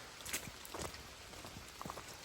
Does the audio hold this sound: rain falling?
yes